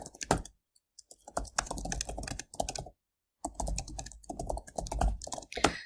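Python code typed on a computer keyboard, heard as brisk, close clatter of individual keystrokes in uneven bursts, separated by short silent pauses.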